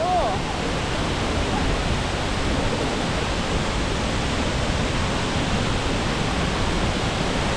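A waterfall in Doi Inthanon National Park, Chiang Mai, roars as a constant, dense rush of falling water close by, loud and unchanging throughout.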